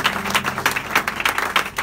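A church congregation at an all-night prayer service claps in a steady, fairly loud run of applause, the individual claps blurring into a continuous wash.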